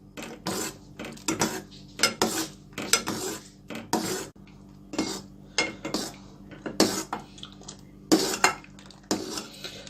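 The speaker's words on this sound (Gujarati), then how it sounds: "આ મિક્સરને કન્ટિન્યુ સ્ટર કરતા" A spoon stirs a thickening guava ice cream milk mixture in a pot. It makes steady, rhythmic scraping and clinking against the metal, about one stroke per second, close and clear, with no talking.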